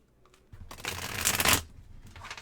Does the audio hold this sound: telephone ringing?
no